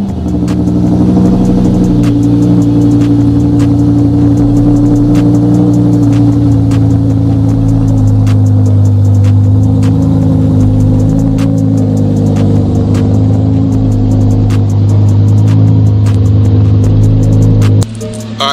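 A Lamborghini Huracan cold-starts and settles into a loud, deep, continuous engine roar with slight swells in pitch, heard close for nearly twenty seconds before it drops away abruptly.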